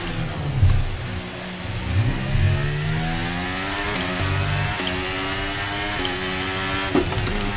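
An F1 car in the F1 23 video game, racing in the rain at Singapore, revs loudly and continuously, its engine pitch climbing and dropping repeatedly through gear changes in a close, sustained whine.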